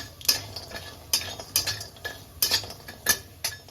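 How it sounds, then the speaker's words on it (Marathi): Nutmeg and asafoetida being roasted in a pan for Malvani masala, with a spoon scraping and clinking against the metal in irregular light strokes, close and fairly quiet. "तर जायफळ आणि हिंग आता चांगलं भाजून झाले"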